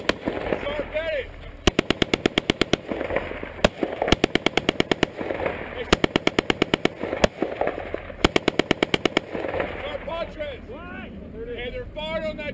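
Rapid bursts of automatic gunfire crack out in repeated volleys during a U.S. Army firefight in Afghanistan, loud and close, with shouted voices and radio-like chatter between and under the shots.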